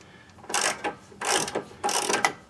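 A ratcheting wrench works the bolt of a car toe link, making three quick bursts of close, crisp clicking with short pauses between them.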